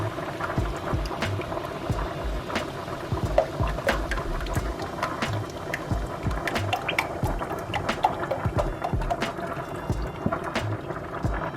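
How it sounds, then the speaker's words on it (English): Heavy whipping cream poured from a quart carton into a hot pan over browned garlic, a continuous close gurgling, splashing pour with bubbling and small drips throughout. "now we're gonna add our heavy whipping cream"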